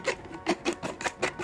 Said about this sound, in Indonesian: Dan untuk memperhalusnya kita bisa menggunakan gergajinya langsung atau bahkan menggunakan kertas amplas.